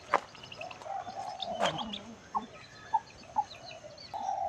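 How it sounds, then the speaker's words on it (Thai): A chick on a farm cheeps and clucks in short separate calls, with a rooster-like call and other fowl nearby against a light outdoor background. "ลูกไก่เหลือหนึ่งเดียวลูกไก่น้อย"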